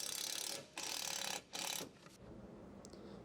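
Wrench and socket ratcheting loose the lower rear shock absorber bolt on a 2014 Ford F150, two bursts of bright clicking separated by short pauses, close and fairly quiet.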